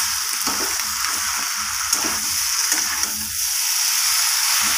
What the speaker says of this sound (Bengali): আলুটাকে দেওয়ার পর আবারও আমি ভালোভাবে কষিয়ে নিচ্ছি যতক্ষণ না তেল ছেড়ে আসছে